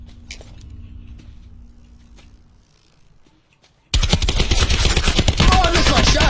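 Automatic gunfire from the video game Call of Duty: Black Ops 4 Blackout bursts in loud and dense after a few quiet seconds of low game ambience.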